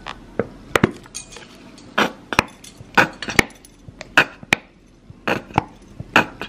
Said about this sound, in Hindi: तो मैं मिक्स कर दूंगी इसमें।